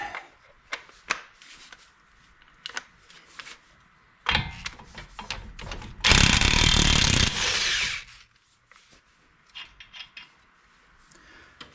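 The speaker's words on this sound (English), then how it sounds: "Got my impact, so we'll get that set up. Watch your ears." An impact wrench hammers off a 32 mm front axle nut on a Suzuki SX4 during a wheel bearing job, with a loud sustained rattling burst of about two seconds after scattered clanks and tool handling noises.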